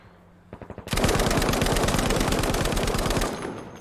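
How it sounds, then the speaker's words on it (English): A Lewis machine gun in a video game fires a few quick rounds, then a long, rapid, loud burst of sustained automatic fire, close and alone. "He's running the 47 Lewis gun here"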